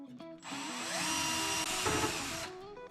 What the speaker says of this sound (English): So I like to pre-drill my cabinets because these units are made of just rather inexpensive plywood.